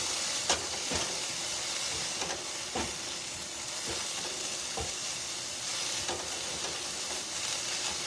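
Pot stickers sizzle in a thickening sauce in a deep skillet, making a continuous bubbling hiss. Soft knocks and scrapes of stirring are heard at irregular intervals.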